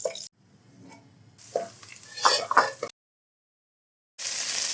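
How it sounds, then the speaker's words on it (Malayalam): Cashew nuts and raisins fry in coconut oil, a soft stirring sizzle with brief scraping bursts, broken by a short silence before a louder sizzle returns. "അതിൻ്റെ അകത്ത് ഗാർണിഷ് ചെയ്യാനുള്ള കാഷ്യൂനട്ടും കിസ്മസും ഇനി വറുത്ത് കോരിയെടുക്കാം"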